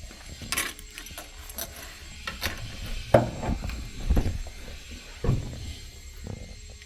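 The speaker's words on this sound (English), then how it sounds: "Let me get the keys, pop the hood, and then check up under the trunk." Car keys jangle and clink in short bursts at close range while the hood of a 1975 Pontiac Grandville with a 455 engine is popped open, with a few knocks and a faint hum between them.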